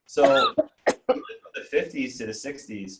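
An audience member coughs once, sharp and close, at the start of a classroom lecture on typography, and the lecturer keeps speaking straight after it.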